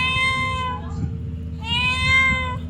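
A hungry cat lets out two clear, drawn-out meows close by, separated by a short pause, over a faint low background hum.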